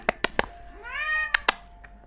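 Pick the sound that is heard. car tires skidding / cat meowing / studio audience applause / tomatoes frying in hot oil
cat meowing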